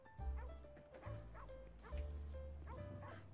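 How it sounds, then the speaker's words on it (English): A dog in the video game GTA V barks and yips repeatedly in short bursts with whimpering tones, close and fairly clear over a low game soundscape. "I'm gonna get rid of this dog."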